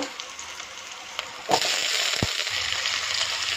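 Potatoes drop into a pan of frying onions, with a steady sizzle broken by a burst of louder crackling and a sharp knock midway, after which the hiss grows fuller.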